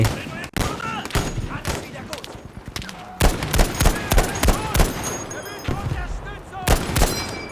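Gunfire and tank cannon shots in the World War II shooter Battlefield V crack in sharp, irregular bursts and heavy booms throughout a busy battle, with someone talking over the shooting at times.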